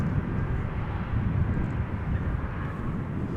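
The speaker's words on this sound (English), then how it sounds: "next up is going to be LOT, an Embraer 195, flight 265, arriving from Warsaw." A LOT Embraer 195 airliner arriving at Amsterdam Schiphol produces a steady, broad jet roar heard from a distance, continuous and fairly even throughout.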